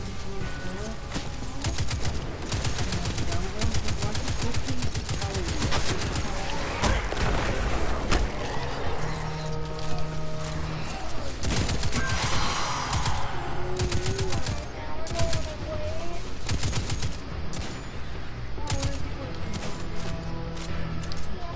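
Rapid bursts of gunfire from the shooter video game Destiny 2 crackle steadily through the stretch, with in-game effects and music layered beneath and players talking over it.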